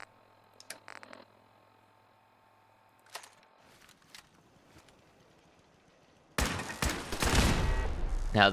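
Automated turrets firing in Fallout 4: a few sparse clicks and light taps early on, then a sudden loud burst of rapid gunfire that continues to the end.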